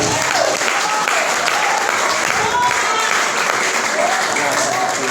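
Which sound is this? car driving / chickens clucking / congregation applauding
congregation applauding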